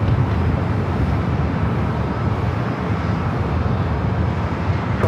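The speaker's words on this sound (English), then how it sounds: "the Delta A321 Neo" A Delta Airbus A321neo airliner arriving from Detroit at Los Angeles LAX gives off a steady, loud, broad engine roar that holds evenly throughout, with no voices.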